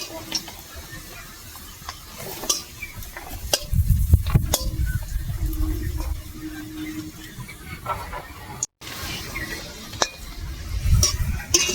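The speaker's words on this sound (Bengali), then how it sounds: "আগে আমি এগুলো ভেজে নিচ্ছি।" Pieces for mango barfi fry in a pan over a low flame, a soft steady sizzle with stirring scrapes, utensil clinks and a brief dropout, no one speaking.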